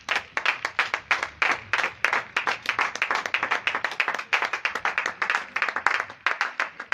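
A church congregation claps together in a steady, rhythmic beat, loud and close, with fast repeated hand claps filling the space and no speech over them.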